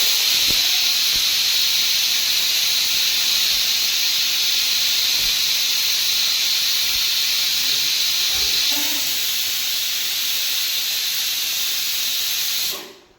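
A pressure cooker cooking Gujarati khichdi lets off a loud, steady whistle of venting steam for about twelve seconds, a broad hiss that eases slightly near the end before cutting off abruptly.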